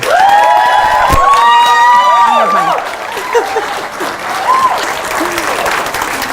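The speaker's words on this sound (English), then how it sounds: "May I hear a big thunderous round of applause" An audience at a stand-up comedy show gives a sustained round of applause and cheers, loud and dense at first, then thinning out, with a voice and scattered shouts carrying over the clapping.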